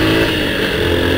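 A Honda XRE 190 motorcycle engine revs loudly and close in a brief, continuous burst with a steady mechanical drone.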